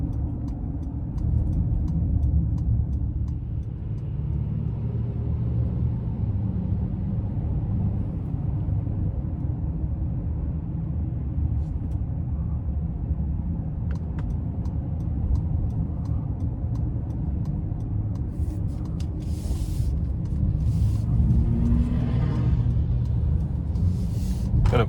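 A 2026 Honda Ridgeline TrailSport AWD cruising on the road, with a steady low engine and tire rumble that holds at an even level throughout, plus faint ticks and brief higher hiss toward the end.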